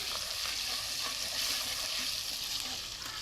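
Chopped tomato hits hot oil with mutton being fried for doi mutton, giving a loud, steady, close sizzle that hisses on throughout with no talking.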